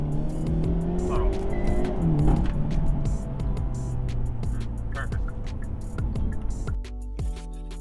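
A Hyundai Elantra N roars under full throttle after a brake-boost launch, its turbocharged engine rising steadily and loud, with wind and road noise throughout and a gear change near the end.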